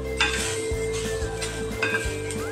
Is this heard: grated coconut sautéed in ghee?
yes